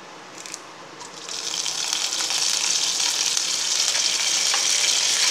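Curry leaves dropped into hot oil for Tamil ginger chutney, a quiet hiss that swells within a second into a loud, steady, close crackling sizzle that holds to the end.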